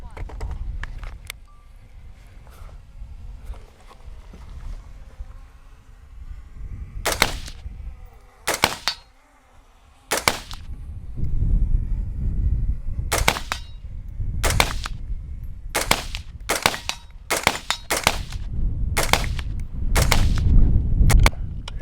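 SIG pistol fired at an outdoor shooting range, a string of sharp loud reports, sometimes paired, sometimes spaced a second or more apart, with rumbling wind and handling noise between shots.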